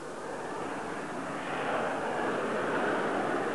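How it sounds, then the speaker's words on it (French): Dassault Balzac VTOL jet hovering on its lift engines, a steady roaring whine of aircraft engines that swells slightly louder partway through, heard at a moderate distance without speech. "En vol stationnaire, l'avion est très aisé à manœuvrer et évolue aussi facilement qu'un hélicoptère"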